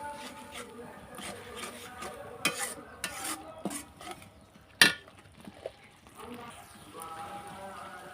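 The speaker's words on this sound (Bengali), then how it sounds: "মশলাটা আমি এখন ভালোভাবে কষে নেব।" A spoon stirs and fries turmeric spice masala in a pan for a desi chicken curry with round potatoes. Scattered scrapes and sharp metallic clinks sit over a low background, with one loud clank partway through.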